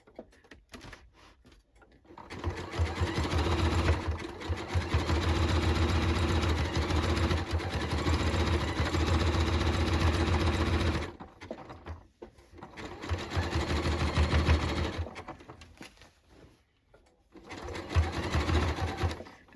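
A sewing machine zigzag-stitches along a denim jacket, its motor whirring loud and close in long continuous bursts separated by short pauses, with faint handling noises between runs.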